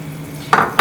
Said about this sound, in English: And to this I'm going to add 1 cup of butter.